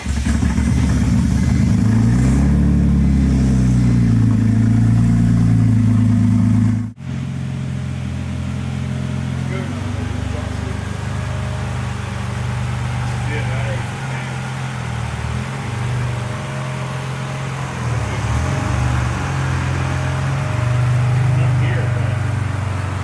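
A BMW E46 race car engine rumbles and revs loudly up close, then cuts briefly and drives off with a lower, varying engine drone as people talk in the cabin.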